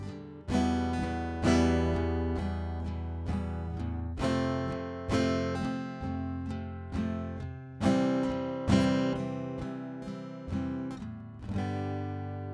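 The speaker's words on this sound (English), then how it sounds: "So we're gonna accent a little bit louder on beat 1 and beat 2" Rhythm guitar strums steady chords alone and close, with regular louder accented strokes on beats one and two giving a pulsing, even groove across the bars.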